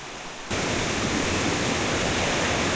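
Strong, rushing water at Taytay Falls in Majayjay, Laguna: a dense, steady roar of the waterfall that surges in loudly after a brief quieter moment and holds constant.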